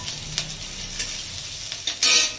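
Boiled elephant foot yam and chopped green chilli being stirred in a hot pan for a kofta curry, giving a soft steady sizzle with a few scraping stirs and a louder hiss near the end, no talking.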